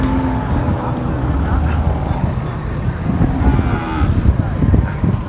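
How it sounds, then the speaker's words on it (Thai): Cattle moo repeatedly at a busy open-air livestock market where cows are bought and sold, with a constant crowd murmur, voices and passing vehicle noise mixed in. "บรรยากาศการซื้อการขายวัวตลาดนัด"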